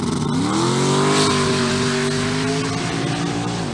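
A limited street drag car accelerates hard down the strip, its loud engine note climbing steadily in pitch through the gears as it pulls away.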